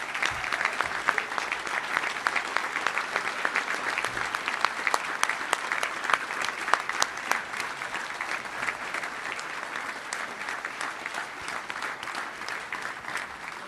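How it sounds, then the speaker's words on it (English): A banquet crowd at a touchdown club gives steady, dense applause for a sportsmanship award class, continuous and even throughout with no talk over it. "Let's give them all a round of applause for our 2020 class Ken Hatfield Sportsmanship Award."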